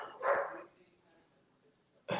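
A single dog bark sounds at the start, with another beginning at the end, moderately close, separated by a quiet pause.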